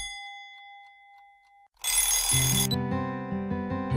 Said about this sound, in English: I was woken up at the noisy alarm clock.